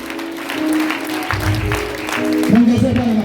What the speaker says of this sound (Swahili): Pigia Bwana makofi kwa ajili ya mambo ya kinabii hapa.